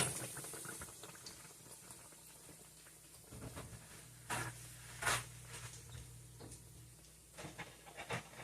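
A chalupa shell deep-frying in hot oil: steady bubbling and crackling sizzle close by and fairly soft, with a few louder pops and spatters, no talking.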